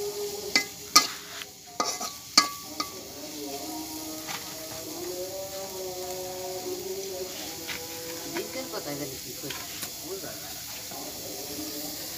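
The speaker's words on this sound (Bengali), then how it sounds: "এখন আমরা তেল দিয়ে দিচ্ছি। তেল দিয়ে আপনারা নাড়াচাড়া করবেন।" Onions frying in oil while being stirred at a picnic cookout, a soft sizzle with a few sharp scrapes early on, and a person talking over much of it.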